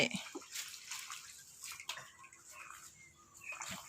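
Vegetables being washed by hand in a basin of water, with soft sloshing, splashing and dripping close by, fairly quiet and uneven throughout.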